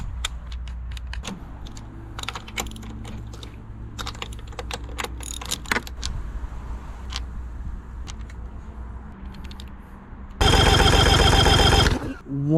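An auction-bought government boat's engine cranks over on its starter with the spark plugs removed for a compression check: a brief, loud, steady whirring burst near the end, after a stretch of light clicking and tapping.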